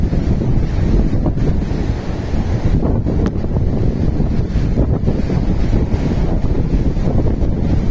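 Heavy rain and strong wind roar in a constant, loud, dense wash with gusting buffeting on the microphone and no pauses.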